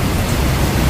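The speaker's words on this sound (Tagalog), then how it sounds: "Yun o, lakas ng ulan, oh." Steady broadband hiss of heavy rain pouring down, continuous and fairly loud with no pauses, like a downpour close by.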